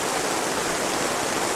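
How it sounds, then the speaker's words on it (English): Heavy storm rain pours steadily outside a cabin tent at dusk, a dense, constant broadband hiss drumming on the fabric with no pauses or voices. "it is just absolutely pouring in here"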